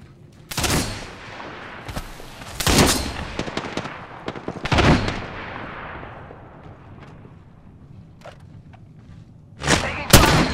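Gunfire in the battle-royale game Apex Legends: several sharp, loud bursts of shots at irregular intervals, with decaying echoes and quieter game sounds between them, and a final pair of close blasts at the end.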